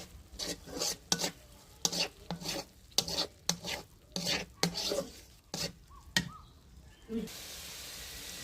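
Spice paste with turmeric is stir-fried in a pot over a wood-fired stove, with rhythmic spatula scrapes and knocks about once a second over a soft sizzle, ending in a quieter hiss.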